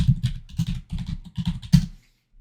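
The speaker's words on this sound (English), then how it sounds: "it's gonna clack my keyboard," Clacky computer keyboard typed on in quick uneven bursts of sharp key clicks, close and fairly loud, ending in a short silence, with no talking.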